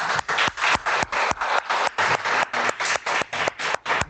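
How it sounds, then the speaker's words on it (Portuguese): Rhythmic, evenly spaced clapping from a small group at a church gathering, loud and close with a steady beat and no voices over it. "Salve de palmas."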